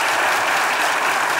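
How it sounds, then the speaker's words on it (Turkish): A studio audience on a Turkish comedy show applauds loudly as guest Danilo is welcomed on his birthday, a brief, dense and continuous burst of clapping. "Çok büyük bir alkışla kendisini yanımıza alıyoruz."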